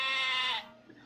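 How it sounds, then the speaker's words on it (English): A goat in the video game Twisted Wonderland gives one loud, nasal bleat that lasts about half a second and then cuts off, leaving faint background sound. "maybe the goat saw Malleus's horns and thinks he's one of them"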